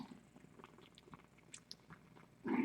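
Tiny kittens suckle milk from their mother cat indoors, making faint, close, wet sucking and smacking sounds in an irregular rhythm, followed by a louder rustle at the very end.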